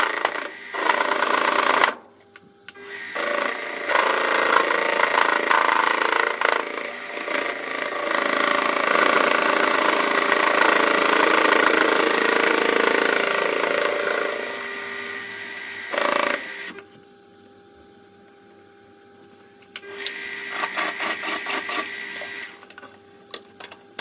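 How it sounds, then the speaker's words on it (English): A milling machine cutting slag off a plasma-cut steel spacer bar, with a loud sustained whining, grinding cut that stops in short pauses and resumes more quietly toward the end. "On this particular spacer bar, I just need to machine away some slag from where this is plasma cut off"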